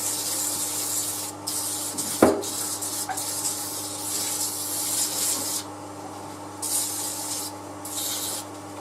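Sandpaper rubbing against wood spinning on a lathe, a steady close rasping hiss with one sharp knock partway through and gaps where the pressure eases, without any talking.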